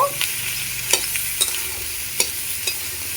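Pointed gourd pieces fry with salt and turmeric in a pan: a soft constant sizzle with a few spaced, crisp scrapes of a spoon stirring, close and unaccompanied.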